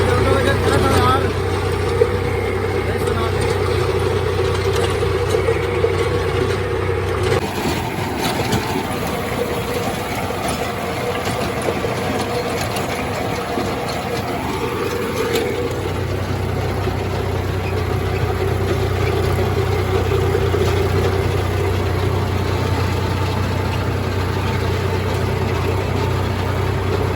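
A tractor engine idling steadily at close range before heading out for rotavator work, a continuous low drone that shifts slightly partway through, with someone talking over it.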